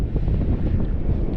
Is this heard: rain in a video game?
no